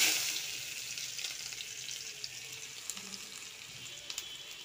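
Chopped onion hitting hot oil in a home kitchen pan, a bright hissing sizzle that flares at the start and then settles into a quieter steady crackle with a few small pops, close and alone.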